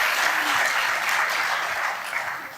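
A conference audience applauds steadily and loudly for the full stretch, a dense wash of many hands with no voices rising above it.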